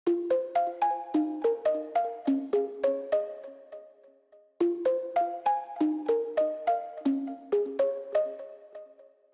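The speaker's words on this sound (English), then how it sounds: "This one is really dope and it's kind of a music box." Music box-style synth lead built from a custom wavetable for tropical chill house plays bright, bell-like plucked notes in a quick melodic phrase, with the phrase repeated twice, clear and alone with no voices.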